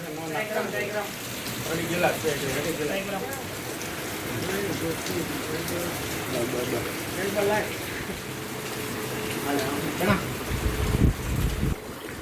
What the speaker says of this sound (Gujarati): વરસાદ ચાલુ ને ચાલુ જ છે